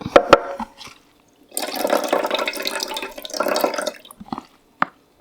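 Pressed tofu releases its water: a couple of sharp drips, then two longer runs of liquid splashing and trickling close by, separated by short silences and ending in scattered drops.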